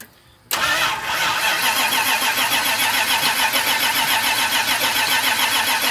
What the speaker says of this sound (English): So go ahead and try to start it for a second, make sure it's out of gear.